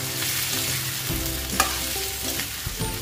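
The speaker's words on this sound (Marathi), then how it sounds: "छान परतवून घ्यायचे ते बटाटे आपल्याला।" Potatoes stir-fried in a pan for a fasting-day batata vada filling, a steady sizzle with scraping spatula strokes and a few clinks, close and alone with no talk.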